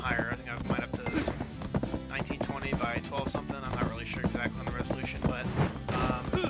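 Galloping horse hooves with possible whinnies in Black Desert Online, a steady clip-clop rhythm running the whole time, mixed with busy game sound and heard under a voice talking.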